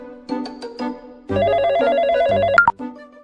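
Phone ringtone for an incoming call, a loud electronic melody of repeated beeping notes that plays alone for a few seconds and then stops abruptly.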